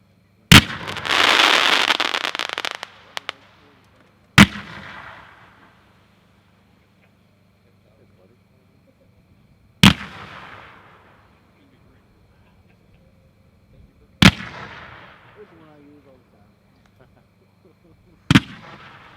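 Spirit of '76 Pro 40 mm fan slices fire outdoors, a loud opening crackle followed by four sharp, widely spaced booming shots, each trailing off into a short echo.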